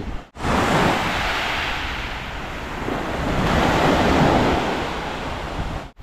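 Sea surf breaking on a beach at Neil Island in the Andaman Islands, a loud, continuous wash of waves that swells and eases, buffeted by wind against the microphone.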